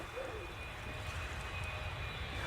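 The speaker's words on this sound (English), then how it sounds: "Oh my god, a plane." Airplane passing overhead, a steady, faint, distant engine drone that holds evenly throughout without talk.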